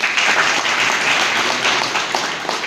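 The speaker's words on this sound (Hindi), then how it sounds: "एक बार तालियां बजाकर के इनका भी" Sustained applause from an audience at a village gathering welcoming a newly elected pradhan, a steady dense patter of many hands clapping with no pauses.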